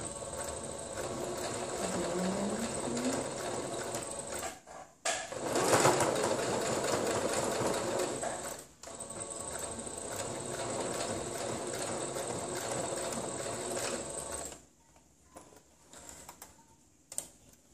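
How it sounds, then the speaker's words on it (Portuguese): A sewing machine stitches a reinforced seam on a fabric face mask with a head band, its rapid mechanical whir running steadily in close bursts, with brief pauses between passes and quiet handling sounds at the end. "mais ou menos 1 centímetro, eu faço uma costura"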